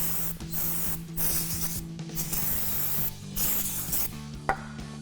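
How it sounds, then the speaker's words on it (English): Repeated hissing bursts of brake cleaner sprayed onto a truck brake rotor, several short and long blasts close by with a faint steady hum underneath and no talking. "So we'll go ahead and spray this down."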